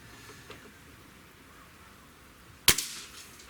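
A single sharp crack from a Remington Thunderceptor .22 Magnum rifle fired at a 20-yard range, preceded by quiet background and a faint earlier click, with a short decay afterward.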